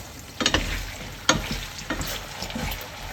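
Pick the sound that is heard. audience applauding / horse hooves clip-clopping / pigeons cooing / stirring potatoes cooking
stirring potatoes cooking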